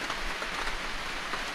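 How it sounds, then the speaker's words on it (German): Steady rain falls outdoors in the Black Forest during an e-bike trip, a constant soft hiss of drops with no break and no voices. "Es regnet und es regnet."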